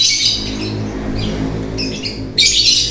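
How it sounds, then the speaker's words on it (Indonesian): Lovebird being trained toward long konslet chattering gives shrill, rapid chattering bursts, near and loud, recurring in short spells over a steady low background hum. "sesekali burung lovebird ini ngekek dengan gayanya."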